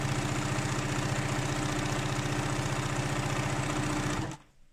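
A sewing machine runs steadily and close, stitching a seam along fabric for a scrub wash bag, its rapid even motor chatter holding for about four seconds before stopping abruptly.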